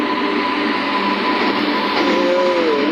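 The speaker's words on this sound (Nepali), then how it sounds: "यो चाहिँ ट्रेन चाहिँ तेलको ट्रेन हो" An oil tanker freight train rolls past close by, a loud continuous rumble and rattle of tank wagons on the rails with faint squealing tones, steady throughout and no voices.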